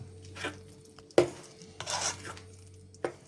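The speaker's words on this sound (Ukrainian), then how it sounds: "І вимішуємо" A few scraping, clinking strokes of a utensil against a bowl, spaced irregularly in a quiet room, as flour batter for a liver cake is mixed.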